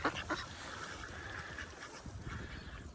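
Ducks at a chaotic feeding, with sparrows around; a few faint quacks stand out early, then fainter calls over a soft outdoor wind hiss, all fairly distant and quiet.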